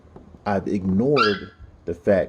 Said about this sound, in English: that's my dog, by the way, they're playing